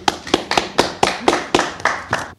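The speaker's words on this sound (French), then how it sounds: "Salvador Dali aime les applaudissements, il exige même qu'on l'applaudisse." Rhythmic hand clapping, about nine sharp claps at an even pace over two seconds, fairly close and loud, applause demanded by Salvador Dalí in a 1971 radio interview.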